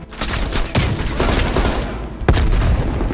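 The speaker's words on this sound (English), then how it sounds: "Heavy MG on the ridge." Heavy machine gun fire from a ridge in Call of Duty Black Ops Cold War, a dense, loud and continuous rattle with two sharper booming reports standing out above it.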